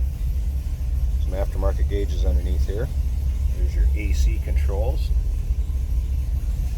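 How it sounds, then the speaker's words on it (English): A 1947 Oldsmobile Series 76 engine idles steadily with a low, constant rumble beneath someone talking close by inside the car. "See how easily that engine starts."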